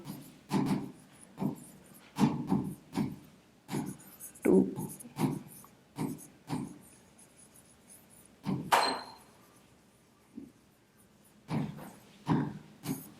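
Marker or chalk writing on a board during a classroom lesson, a series of short scratchy strokes in irregular bursts with brief pauses, fairly close and alone without speech.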